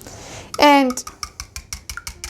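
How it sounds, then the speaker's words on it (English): A whisk clinks and scrapes in a bowl of wet red velvet cupcake batter of buttermilk, egg, melted butter, vegetable oil and vanilla, making rapid rhythmic taps after a brief higher-pitched squeak, close and clear. "you give it a whisk"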